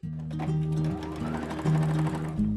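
A sewing machine joins quilt hexagon pieces into halves in short, close bursts of rapid stitching that rise and fall with small pauses between runs.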